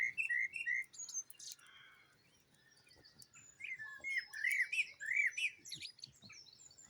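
Birds in a tree squawk and chirp in agitated warning calls, guarding young in their nests; bursts of sharp calls come and go, fairly close, with no talk.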